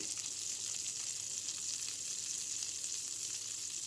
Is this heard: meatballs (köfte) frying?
yes